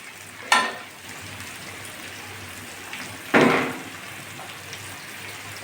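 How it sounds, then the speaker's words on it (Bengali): Chopped onions tipped into a pan of plenty of hot oil for a bitter gourd fry, giving two short bursts of sizzling over a faint steady frying hiss. "তেল রয়েছে করাটা এর ভিতরে আমি পেঁয়াজ কুচিগুলো ঢেলে দিচ্ছি"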